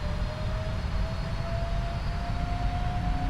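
Jet engines of a PMDG 777-300ER with GE engines spool up to takeoff power in the Prepar3D flight simulator, a steady loud broadband roar with a faint rising whine, continuous and without talk.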